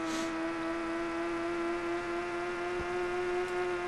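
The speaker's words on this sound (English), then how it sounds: "So, I've been hearing the engine sound of the Trueno here." A steady, droning engine note from a Toyota Trueno in the video game Top Gear GT Championship, played alone at a constant pitch with a brief click near the end.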